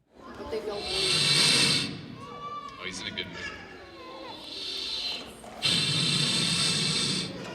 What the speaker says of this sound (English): That's the menacing huff and puff sound of the second most deadly poisonous snake in the world, a gaboon viper.